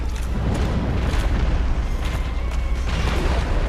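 Rapid, dense string of explosions from a boss attack in Dark Souls, booming continuously and loudly with no pauses.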